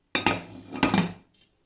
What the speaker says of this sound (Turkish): Ben şimdi kapağını da kapatayım.